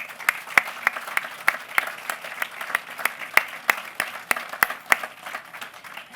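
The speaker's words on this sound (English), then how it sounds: "Let's give them a round of applause." Sparse, uneven clapping from a small audience at a technical university event, individual sharp claps clearly separated rather than a dense roar, steady for about six seconds.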